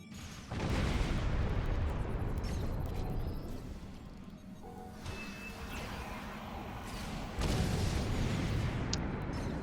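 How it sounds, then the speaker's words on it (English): Heavy, rumbling explosions in Star Trek Online boom one after another, dense and loud, with crashing debris bursts rising again near the end. "the last explosion."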